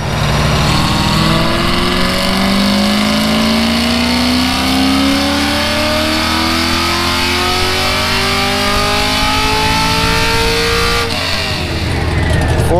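A car engine is held at high load on a dyno, its pitch rising steadily through a long, loud pull before it drops off near the end.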